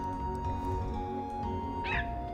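A single short dog yip or bark from the Chrono Cross video game rises over a steady game music bed, brief and fairly clear near the end.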